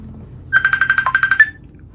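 Ringtone on a Huafit A1000 smartwatch signalling an incoming call, a rapid trill of about a dozen bright electronic pulses lasting roughly a second, close and clear over a quiet low hum.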